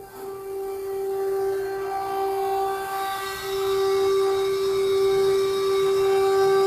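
Warning bell or tone going off on a manufactured-home factory line while a section is rolled along, a steady sustained ringing tone that holds throughout over low industrial rumble.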